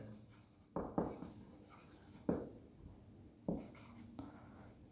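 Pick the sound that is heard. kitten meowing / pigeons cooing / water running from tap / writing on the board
writing on the board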